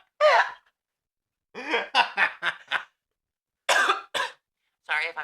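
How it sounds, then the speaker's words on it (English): Several short bursts of coughing and throat clearing, spaced out with pauses between them, close and loud, with some snickering mixed in. "Sorry if I'm coughing."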